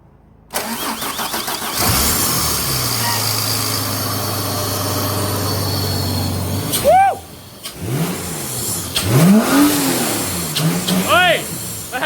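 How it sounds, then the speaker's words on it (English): A car engine, sitting unstarted for a month after a manual gearbox swap, cranks on its freshly refitted starter motor, catches and fires, then revs up and down in several bursts; people's voices come through between the revs. "You put the starter motor back on, and now we're going to try and turn it over."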